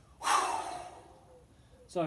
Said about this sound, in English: I'm going to inhale like I'm taking a breath, like I'm going underwater.